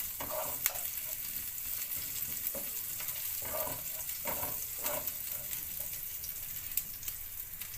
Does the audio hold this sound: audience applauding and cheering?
no